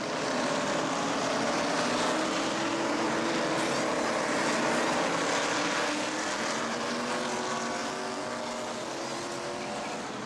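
Brett Bodine's NASCAR Winston Cup race car roars from an in-car view at the 1989 Valleydale Meats 500, a dense sustained engine drone under heavy wind and road rush, steady and loud throughout.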